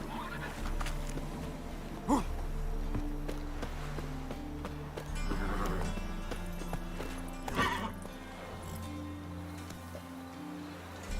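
Geralt's horse Roach from The Witcher 3 gallops in rhythmic hoof clip-clops under continuous game music, with a neigh near the start and another about halfway through, fairly quiet in the mix.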